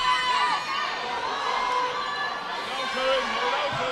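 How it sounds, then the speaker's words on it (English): Loud, steady roar of a crowd cheering and shouting at a Thursday night high school wrestling sectional dual between Seymour and Greeneville, sustained and dense throughout with excited yells rising above the din. "the crowd is going crazy"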